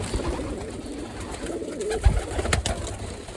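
Soft, throaty pigeon coos murmur continuously under a rustling background, with a couple of brief clicks near the end.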